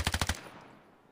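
A short automatic rifle burst in the mobile shooter Standoff 2: four rapid, punchy shots in quick rhythm, then a fading echoing tail, with no voices.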